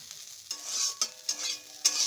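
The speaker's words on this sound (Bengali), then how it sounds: "আর এখানে একটু বসিয়েছি হলো উচ্ছে ভাজা" Bitter gourd stir-fries in a pan with a soft sizzle, broken by four or five distinct scraping stir strokes at roughly half-second intervals, close and fairly quiet.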